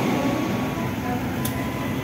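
A steady, even rumble from the Manahan executive train at Purwokerto station fills the space, with a continuous low hum and no clear voices.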